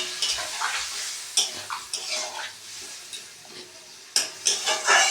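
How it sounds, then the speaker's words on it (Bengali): Spiced cauliflower curry being sautéed with a splash of water for a Gopal bhog offering, giving a soft sizzle with scraping stirs in bursts and short pauses. "একটু জল দিয়ে কষিয়ে নেবো"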